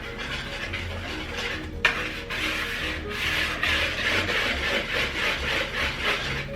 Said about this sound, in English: Essentially all of your dry ingredients. And then just whisk together.